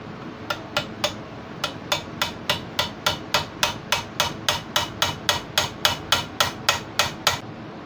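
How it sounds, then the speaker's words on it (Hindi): A rivet is hammered into an Usha sewing machine during a full service: about twenty sharp metallic blows at a steady, even rhythm, close and loud, with no talking. "तो मैंने ये रिपीट को ठोक दिया हूँ।"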